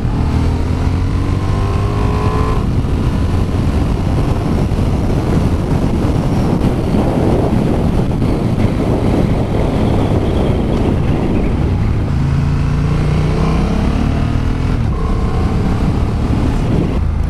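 Honda CB750 Hornet motorcycle ridden in sport mode, a steady engine drone with rising and falling gear pitch, heavily buffeted by loud wind noise throughout, with no talking.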